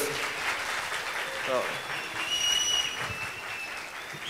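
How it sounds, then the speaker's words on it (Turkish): Applause from a studio audience on a Turkish game show as a young contestant departs, a steady patter with a host voice and faint tonal sounds over it. "Alkışlarla, alkışlarla genç arkadaşımızı uğurluyoruz"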